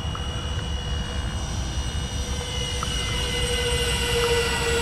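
An RC electric ducted-fan model of an Airbus A380 flies overhead, its steady jet-like whine with thin high tones and a broad rushing roar building slightly louder toward the end.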